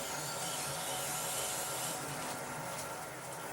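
A wood lathe turns a pepper mill blank at a slow 130 RPM, giving a soft, steady motor hum with faint hiss from the work, with no talking.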